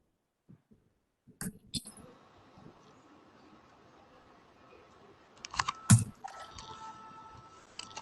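Keys tapped on a computer keyboard while entering a Google Form link into a chat box, a few quick clicks near the start, a denser burst near the end, over a quiet steady background hum.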